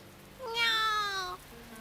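A black cat in The Fruit of Grisaia gives a single clear, drawn-out meow with a rising then falling tone, close and distinct over a quiet background.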